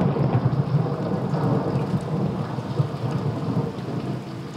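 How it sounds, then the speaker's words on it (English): Heavy thunder rolls and rumbles from a distance through a dense, steady downpour of rain, loud and continuous with no voices. "We can hear the rumbling of thunder in the distance."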